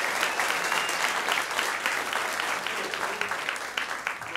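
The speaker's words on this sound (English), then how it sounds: "Give Greg a big round of applause." An audience at a comedy club claps for a member of the crowd, a steady, full round of applause from many hands that stays constant throughout at moderate level.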